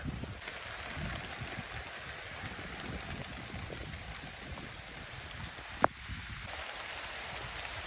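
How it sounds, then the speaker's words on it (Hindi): Heavy rain pours down steadily in a dense, continuous hiss, with one sharp knock partway through. "फुल तेज बारिश पड़ना शुरू हो गई है।"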